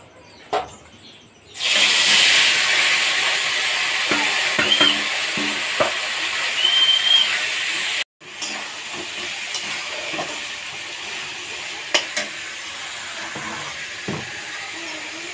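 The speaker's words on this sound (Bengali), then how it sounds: "মোচাগুলো দিয়ে দেবো এখন কড়াইতে।" Banana flower hits hot oil in a kadai tempered with bay leaf and panch phoron, setting off a loud, steady sizzle that fades after several seconds into a quieter frying hiss with occasional stirring clinks.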